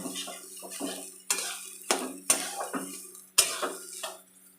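A utensil scrapes and clatters against a pan while pointed gourd and prawns are stirred, with repeated sharp metallic knocks in an uneven rhythm, near and fairly loud.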